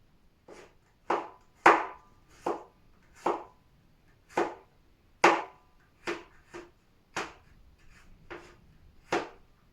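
Knife finely chopping a garlic clove on a cutting board, about a dozen sharp, distinct taps at an uneven pace, close and clear in a quiet room with no talking.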